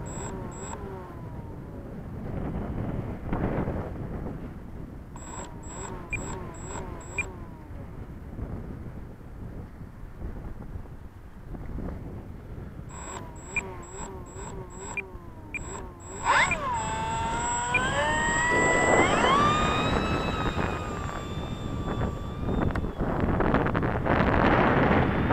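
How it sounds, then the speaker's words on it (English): A Dynam P-47 RC plane's electric motor with a fault runs at half throttle, a steady whine with wind buffeting and repeated high electronic beeps, rising to a louder, shifting tone near the end. "That's half throttle right there, Jason."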